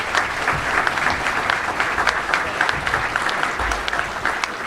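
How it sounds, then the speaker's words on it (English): An audience at a touchdown club luncheon gives a sustained round of applause for a coach, dense steady clapping with a few sharper individual claps standing out, loud and even throughout. "just wanted to give another round of applause to him"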